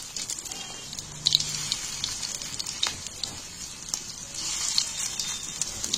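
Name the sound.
fish roe rolls frying in oil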